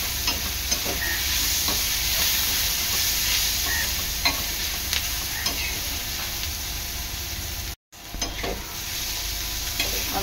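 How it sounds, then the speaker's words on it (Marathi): Crushed garlic and ginger fried and stirred in a pan, a steady close sizzle with scattered stirring clicks and scrapes, broken by a brief dropout near the end. "लसूण आणि आलं ठेचलेलं, चांगला मिक्स करून घ्यायचं आहे।"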